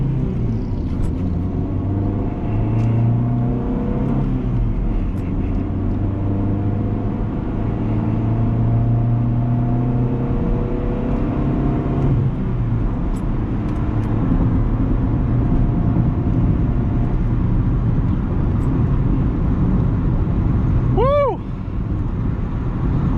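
A 1999 Honda Civic DX with a five-speed manual pulls hard from rest toward sixty, the engine droning and climbing through the gears from inside the cabin, with a driver talking over it and a brief tonal chirp near the end.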